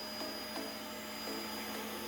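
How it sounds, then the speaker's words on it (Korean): A wet-dry vacuum cleaner drones steadily as it sucks leftover water out of a freshly washed carpet, the motor loud and constant with faint slurping surges. "혹시나 남아있을지 모를 물을 더 빨아주고"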